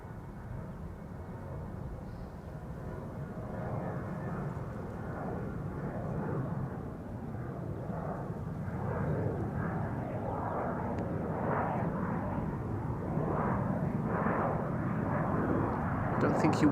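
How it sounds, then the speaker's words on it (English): A KLM jet airliner departing Amsterdam Schiphol for Istanbul gives a steady engine roar that slowly builds in loudness over the whole stretch, with a voice talking over it. "Departure from center, KLM flight 1959 to Istanbul"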